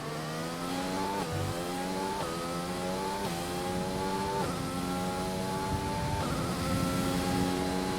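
A Formula 1 car engine in F1 2020 screams at high revs on a flying lap in Brazil, rising through each gear and dropping sharply at every shift, loud and continuous.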